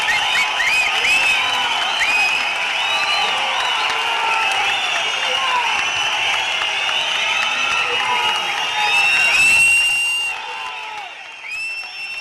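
A large hall crowd at a party general council meeting breaks into sustained clapping and cheering, dense and loud throughout, fading toward the end, with whistles and whoops mixed in.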